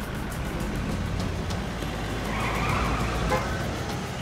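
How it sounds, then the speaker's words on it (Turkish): A car pulled forward a short way, its engine giving a steady, close rumble that swells slightly midway, with no voices over it. "Ben az şöyle ileri çekeyim de araba zarar görmez."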